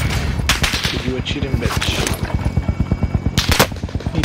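Sustained automatic gunfire in Call of Duty Warzone, a fast, steady stream of loud close shots that runs the whole way through, with a voice speaking briefly over it.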